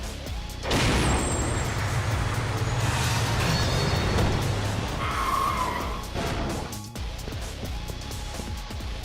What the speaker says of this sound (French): Les mecs rigolent pas, ils utilisent carrément des camions quoi, pour essayer de me finir.